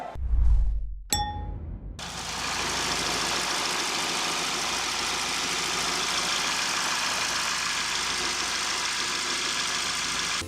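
After a couple of metallic dings and a brief clunk, the engine of a Genesis G80 idles steadily with a constant low hum and broadband whir, close by, heard from the open engine bay.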